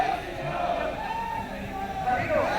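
A large crowd gathered around a stage at an outdoor event in Rudrapur, its dense murmur and scattered shouts steady throughout at moderate loudness, with a voice speaking over it.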